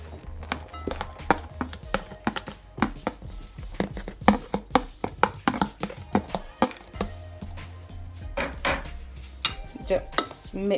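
Cheese being mixed with coriander and green chilies in a bowl, heard as rapid, irregular clinks and scrapes of a utensil against the bowl, close and busy throughout with no talk.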